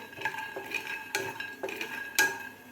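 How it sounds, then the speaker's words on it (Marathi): Peanuts roasting in a pan, stirred with a metal spoon that scrapes and clinks against the pan in irregular strokes, close and fairly loud with no talking. "अगोदर आपल्याला शेंगदाणे व्यवस्थित भाजून घ्यायचे आहेत"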